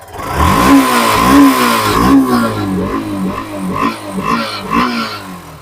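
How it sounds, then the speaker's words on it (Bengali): A nearby motorcycle engine at a used bike showroom runs loudly and unevenly, its pitch rising and falling with repeated revs throughout. "স্টার্টে আছে হুম স্টার্টে শুনতে পাচ্ছ হুম একদম আওয়াজ হচ্ছে"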